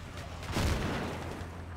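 Artillery fire lands in Battlefield 2 conquest play, heard as a single deep, muffled boom with a rumbling tail against steady game background noise.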